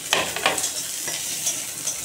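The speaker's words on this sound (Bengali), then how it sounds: "রসুনগুলো এর ভিতরে দিয়ে ভেজে নেব" Garlic cloves fry in a pan with leftover oil from boiled chillies, a soft steady sizzle broken by a few scraping stirs, fairly close and with no talking.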